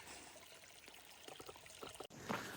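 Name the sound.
water bottles being filled from a stream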